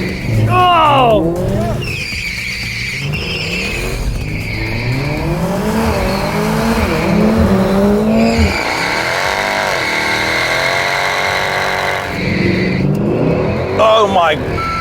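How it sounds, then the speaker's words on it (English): A Mercedes-AMG A45 S with a 2.0L engine and all-wheel drive and an older C63 AMG V8 launch from a standing start, engines revving hard and rising through gears in loud, sweeping pitch climbs, while people talk excitedly over them. "Crikey, this thing is fast off the line."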